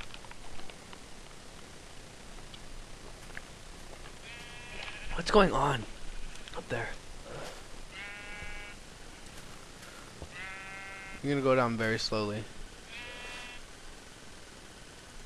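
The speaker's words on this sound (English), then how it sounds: "This is a puff sheep, guys." Puff sheep in modded Minecraft bleating in a few short, wavering calls, two louder bursts standing out, while a player talks over the game sounds.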